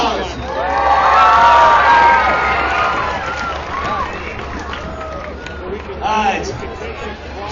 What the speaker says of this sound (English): Cat Equipment, give them a big round of applause.